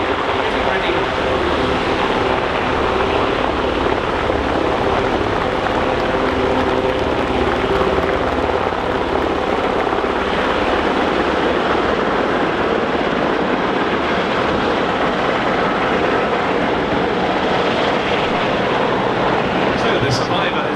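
A rescue helicopter hovers at the East Fortune Airshow in 2015 with a loud, steady roar of rotor and engine that stays close and fills the whole stretch, while a commentator talks over it.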